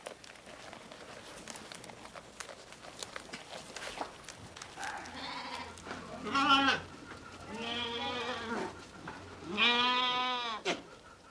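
Goats and sheep on a farm bleat several times in the second half, loud wavering cries close by, following a stretch of shuffling and rustling movement.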